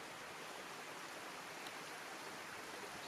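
A stream swollen into a torrent after heavy rain, eroding its bed near Lac Mégantic, heard as a steady broadband rushing roar, even and unbroken, fairly faint, with no voices.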